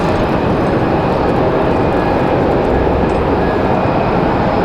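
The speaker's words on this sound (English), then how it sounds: "another A220. That's got to be a Breeze Airways over on the other side over there." Breeze Airways Airbus A220 airliner on the far side of the field, a loud continuous broadband rumble and roar with a faint steady whine, unbroken for the whole stretch and free of talk.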